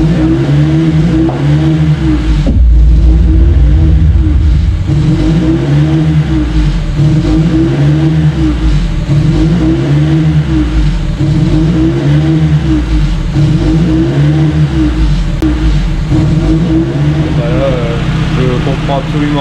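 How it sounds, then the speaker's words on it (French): A Honda Civic EP1 track car idles steadily and close by, with an even, rhythmic low engine pulse running throughout and voices talking over it. "On a un ralenti qui est hyper stable, elle a jamais aussi bien tourné"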